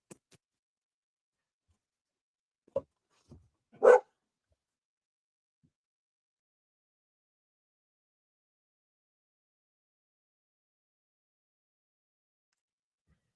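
A dog barks a few times indoors during a live session at home: two short faint yips followed by one louder bark, then long silence.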